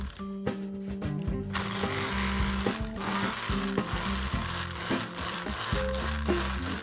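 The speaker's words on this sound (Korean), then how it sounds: "결국 쿠레카를 사용해서 작업을 합니다." A small electric breaker chips into a concrete floor over a leaking heating pipe, a close, loud, rattling hammer burst that stops and restarts in uneven stretches, heavy repetitive impacts.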